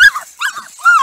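Lemon beagle puppies around seven and a half weeks old yip and whimper up close in a few short, high, loud bursts.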